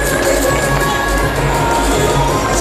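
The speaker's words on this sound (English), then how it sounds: "You are hearing people clapping to encourage the Concord athletes." Outdoor crowd at a national track and field championship urging on a jumper during her final attempt, a busy mix of steady rhythmic clapping, cheering and shouting voices.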